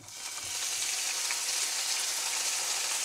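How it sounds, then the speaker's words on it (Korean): Chopped vegetables stir-frying in a hot pan, a steady dense sizzle that holds loud and even throughout, close up with no talking. "이 썰어둔 야채를 한 번에 볶아줍니다."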